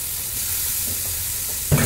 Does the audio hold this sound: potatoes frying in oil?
yes